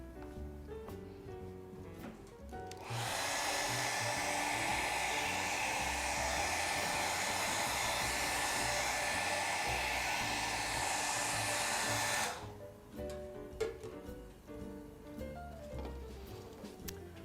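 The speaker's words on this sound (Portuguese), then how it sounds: "Agora eu vou secar." Hair dryer blowing over freshly painted galvanized metal, a loud steady rushing roar switched on and held for about ten seconds before cutting off, with light handling noises around it.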